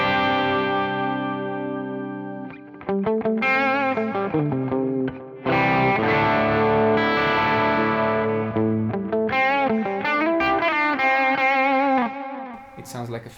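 Heavily distorted Epiphone 1958 Korina Flying V electric guitar plays sustained chords, then a choppy riff with bent notes, loud and close, with brief pauses between phrases.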